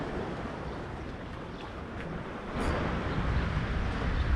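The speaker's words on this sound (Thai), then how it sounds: "ลมไม่แรงมากนะครับเบาๆนะครับ แต่คลื่นแบบนี้ผมชอบเลย คลื่นดีเลย" Sea waves wash continuously under a light wind, a soft broadband rush that swells a little louder partway through, heard alone with no voices.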